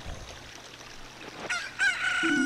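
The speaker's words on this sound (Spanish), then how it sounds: "sacando a la gallina para que cante" Game rooster crowing from The Legend of Zelda: Ocarina of Time on N64, a bright crowing call breaking in after a quiet stretch, with tonal game jingles layered on top.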